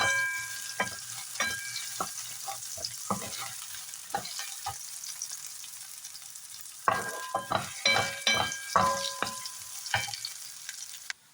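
Garlic and onion sautéing in a pan for crab cooked in coconut milk, a light sizzle punctuated by irregular scraping and clinking strokes from a spatula, sparse at first and then a denser burst of stirring.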